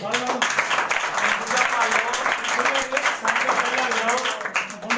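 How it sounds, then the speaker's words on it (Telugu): A church congregation claps along steadily while a voice talks loudly over the continuous clapping. "చప్పట్లు కొట్టండి"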